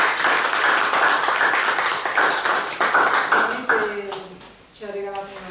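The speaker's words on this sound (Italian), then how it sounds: "possiamo ringraziare con un grande applauso." A live audience gives a big round of applause to thank the speaker at the end of a talk on activism and artificial intelligence; dense clapping fills the hall, then fades near the end as a voice comes through.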